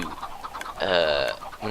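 Minecraft-style chickens cluck close by in a short burst of clucks, with one longer drawn-out squawk in the middle.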